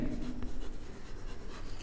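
Marker or chalk writing on a classroom board during a physics lesson, a few short scratchy strokes and taps up close, with faint room background and no speech.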